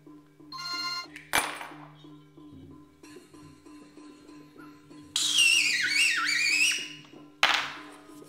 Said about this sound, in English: Somebody calling me to tell me to shut up.